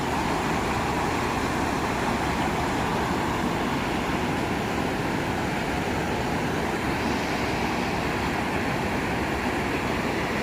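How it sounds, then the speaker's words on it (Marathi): Floodwater from a swollen village stream surges over a bridge after heavy rain, a loud, steady roar of rushing water that runs unbroken throughout with no talk. "इथं बघू शकता बघा किती पाणी व्हायला"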